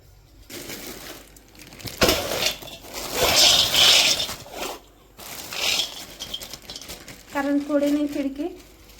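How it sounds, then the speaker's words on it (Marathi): Peanuts poured onto a plate in a home kitchen, heard as several bursts of dry rattling and clattering, with a voice talking over and between the pours. "ते आपले शेंगदाणे आता एका ताटामध्ये ओत ओतून घेते मी असं ताटामध्ये टाकते"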